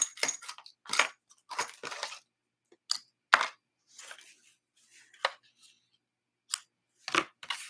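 Scissors snip through paper for a fancy-fold card, giving sparse, crisp, close cuts spaced irregularly with quiet gaps between.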